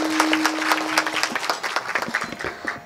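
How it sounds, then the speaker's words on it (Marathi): A crowd at a comedy kirtan breaks into loud, sustained clapping. A brief held tone sits under the first second, and the clapping grows more rhythmic and uneven toward the end. "मग जेवल्यासारख्या टाळ्या वाजवा की।"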